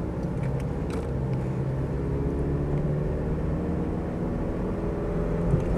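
A Mitsubishi Pajero 2.8 TDI long-wheelbase automatic pulls away and accelerates, its diesel engine a steady low rumble from inside the cabin with no voices.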